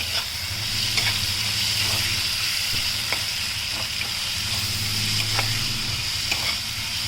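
Onions sizzle in hot oil in a pan while cooking hotel-style potato filling for masala dosa, giving a loud, steady, close frying hiss with occasional scraping stirs.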